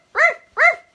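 Rags, a small dog, gives two loud, close, evenly spaced barks, each a short clear yelp with nothing else heard between them.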